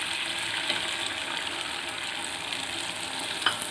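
Beaten eggs frying in a pan with powdered dried fish, a steady, close hiss of sizzling oil that continues evenly with a brief clink near the end.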